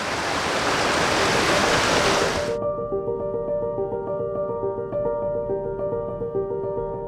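Water rushing at Roddlesworth Waterfall makes a loud, steady broadband roar for about two and a half seconds, then drops away to a quieter background with faint sustained tonal hum.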